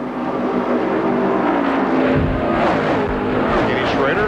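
NASCAR Winston Cup stock cars race in the 1996 Brickyard 400 at Indianapolis Motor Speedway, a continuous roaring engine wash that swells partway through, with a commentator talking over it.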